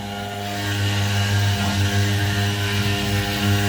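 A 1325 CNC router runs from an inverter and a LiFePO4 battery, giving a loud, steady electric motor drone with layered tonal hum. No one speaks over it.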